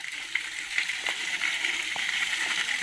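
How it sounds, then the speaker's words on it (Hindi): Spring water at Barmasiya flowing without pause, a bright hissing splash with small irregular spatters, close and steady, with no talk. "ये जो पानी देख रहे हैं दोस्तों, यहाँ सालों भर पानी इसी तरह आते रहता है"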